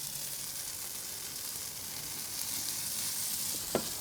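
Grated potatoes for a rosti hiss and sizzle steadily in a hot pan, a close, even frying crackle that stays level throughout, with a brief louder clink near the end and no talking.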